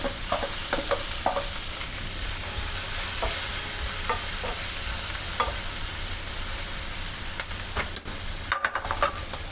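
Garlic and finely chopped onion stir-fried in a pan for a creamy pasta, giving a steady close sizzle broken by sharp scraping stirs of the spatula, with no voices.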